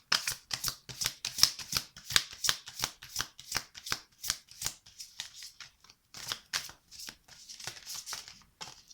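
Tarot cards being shuffled by hand: a long series of crisp, rapid riffling and slapping bursts in a steady rhythm, close and clear with brief pauses between passes.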